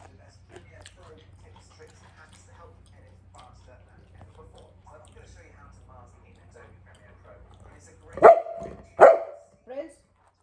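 A dog barks in three sharp bursts near the end, loud and close, after a stretch of quiet household background with soft indistinct talk.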